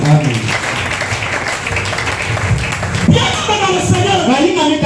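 Congregation applauding and cheering in church during a prayer marathon, loud clapping and shouts mixed with singing voices, lively throughout.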